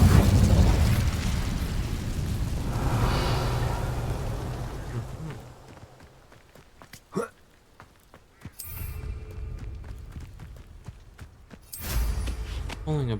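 A fire spell burst in Hogwarts Legacy, heard as a loud roaring blast in the opening seconds that fades out, with later sharp pops and a second surge near the end.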